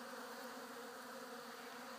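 Honeybees drone in a steady, dense buzz at waterers filled with sugar syrup, many insects close and continuous with no pauses and no talking.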